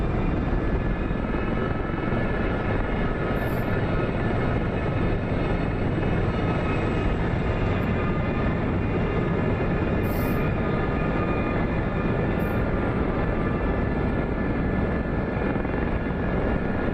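A steady, loud SA-342 Gazelle helicopter drone from the DCS flight combat game, a dense continuous rotor and turbine roar that holds evenly throughout with no speech.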